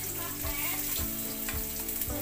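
Garlic sizzles in hot oil in a pan while cooking crab with coconut milk, a loud continuous crackling fry punctuated by a few soft stirring knocks, with no voice over it.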